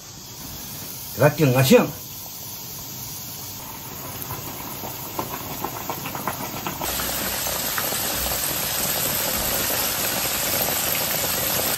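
A whole chicken goes into oil heated to 160 degrees, giving a brief loud splash and hiss, then a steady close bubbling sizzle that grows fuller and continues; someone speaks briefly near the start.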